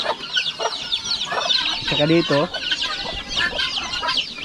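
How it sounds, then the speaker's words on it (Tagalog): Duckling chicks peep in a dense chorus of high, rapid chirps, close and continuous, while a person speaks briefly among them. "Ito po mga pato to. Sisiw ng pato."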